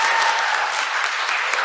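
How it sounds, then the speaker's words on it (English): Applause from a group for third grade volunteers, steady moderately loud clapping filling the whole short stretch. "round of applause for our third grade volunteers here"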